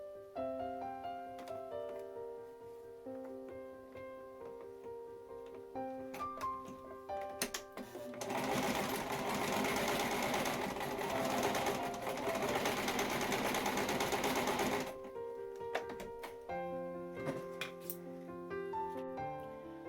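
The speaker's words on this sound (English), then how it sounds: "Just do a straight stitch across here." Sewing machine running a straight stitch across the elastic end of a simple fabric napkin ring, a steady loud mechanical whirr of rapid stitching lasting several seconds, with quieter handling and machine ticks before and after.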